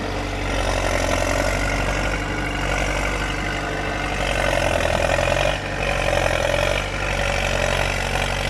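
A heavy diesel engine of a D50A bulldozer runs steadily at a low, rumbling idle, loud and close, with a brief dip in the middle and no voices.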